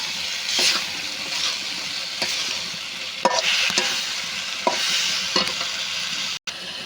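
Spice masala fried for an egg curry is stirred in a pan. A steady sizzle runs under a string of spatula scrapes that fall every second or so, close and clear with no talking.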